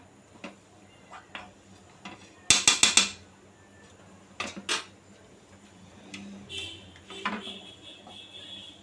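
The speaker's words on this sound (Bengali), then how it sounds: "অবশ্যই নাড়তে থাকতে হবে, না নাড়লে কিন্তু সুজির হালুয়াটা নিচে লেগে যাবে" Semolina halwa stirred in a pan, a spoon clattering and scraping against the metal in scattered knocks and a quick burst of rattles, with quieter stirring between, close by.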